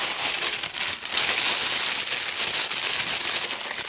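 A plastic bag crinkles steadily as an easel is pushed back inside it, a continuous close crackling rustle that swells and dips without pause.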